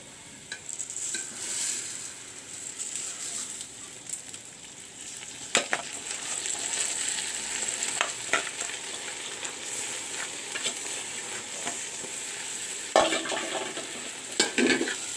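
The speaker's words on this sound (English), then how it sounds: "And fry the rice well." Basmati rice frying with browned onions in a pan, a steady hiss with scraping stirs and a few sharp clacks of a spoon against the pan, close and moderately loud throughout.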